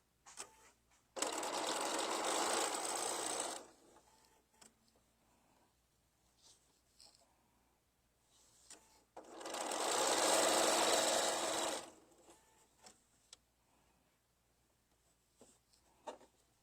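A sewing machine stitches a quilted tabletop banner in two loud, steady runs of about two and a half seconds each, with quiet handling noises between the bursts.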